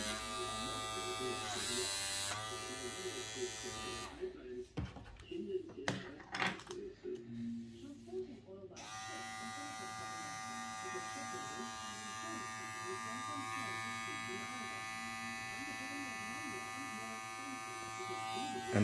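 Babyliss replica hair clipper motor running with a steady high-pitched buzz, briefly interrupted and loaded mid-way by handling noises, then resuming its even drone.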